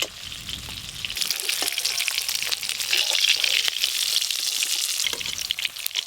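Fish frying in hot oil in a village kitchen, a steady bright sizzle with crackles and small pops, close and continuous after a brief quiet start, no talking.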